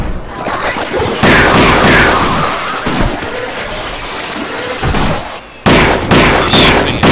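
Loud, close bursts of gunfire rattle in the Half-Life Affliction mod, with dense clustered shots and short gaps between volleys.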